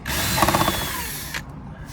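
A power tool whirs steadily for about a second and a half while undoing 10mm bolts on a Skoda Octavia II 1.6 hatchback during an oil and filter service, then cuts off sharply, leaving quiet.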